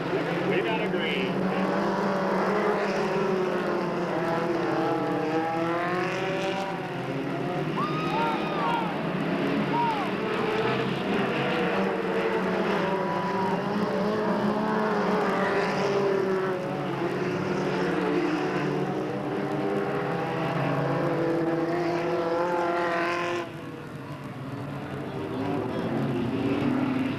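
Race cars roar around the oval at Delta Speedway in a 1997 race, engines droning and rising as the field comes around under green, with a track announcer talking over the noise throughout.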